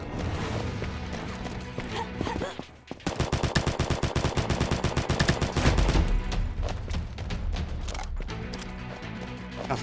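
Rapid automatic gunfire from a weapon in the shooter video game Combat Master hammers out in a long, loud burst of evenly spaced shots, with sparser single shots and game effects before and after.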